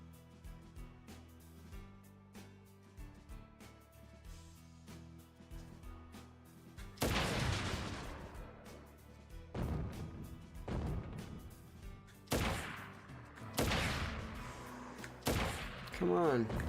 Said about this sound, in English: shooting robots with a sniper rifle.